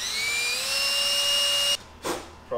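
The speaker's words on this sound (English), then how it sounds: "we're gonna run this drill bit up into the backs of these. So it just has a little pilot hole for these screws to go in." A power drill bores a pilot hole into old barn wood for mounting a deer antler jewelry rack, a close high-pitched whine that holds steady, then cuts off and gives one short burst.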